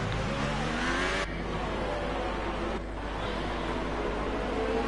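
Formula 1 race car in a video game, its engine screaming at high revs with rising and falling pitch as it shifts gears and battles for position, loud and continuous with short dips, no talking.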